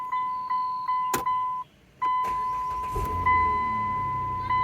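A 2011-2017 Dodge Journey starting up after a run of key-fob beeps: a brief crank at about two seconds, then the engine settles into a steady idle, close by, with no voices.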